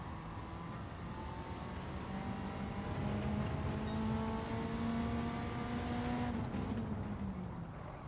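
Honda Civic race car lapping Tsukuba in Gran Turismo 7, a steady loud engine drone with rising gear-pitch tones, continuous and close, held without talk before easing off near the end.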